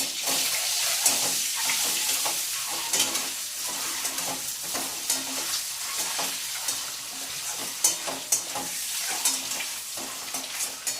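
Eggs fry lightly in a pan with turmeric, a continuous crackling sizzle broken by frequent spatula scrapes and taps, close and fairly loud throughout.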